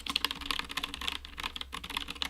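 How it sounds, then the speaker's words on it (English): Quick, steady typing on a Das Keyboard 4 Professional that has been desoldered, close and crisp, with a continuous run of clicky keystrokes and no voices. "This is how this keyboard now feels."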